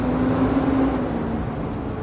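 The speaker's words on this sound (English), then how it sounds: "It's a loud truck." A loud truck rumbling past on a road, a steady heavy low drone that fades slightly toward the end, close and without any talking.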